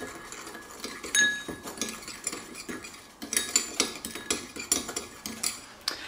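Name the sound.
mixing dry spices for a steak rub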